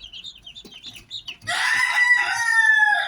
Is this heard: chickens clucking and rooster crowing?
yes